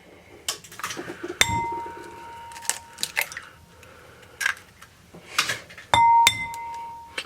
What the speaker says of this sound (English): These are large eggs, so I'm going to crack them in